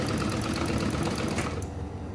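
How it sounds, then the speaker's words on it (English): Sewing machine stitching a purse closed along the turning opening, a fast continuous mechanical rattle of needle strokes, loud and close, slowing and stopping near the end. "I'm sewing it down, closing the opening where we turned."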